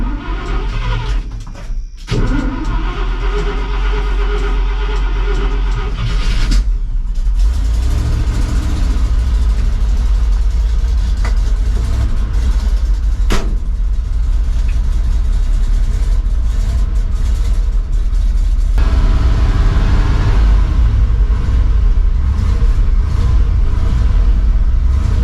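The engine of a 1968 International Loadstar truck runs on choke after starting, with a loud, close, steady rumbling idle and a few shifts as it is revved, with no talking.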